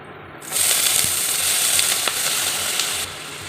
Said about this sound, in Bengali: পরিমাণ মতো তেল দিয়ে নিলাম আমি এই আলুগুলি ভেজে নেব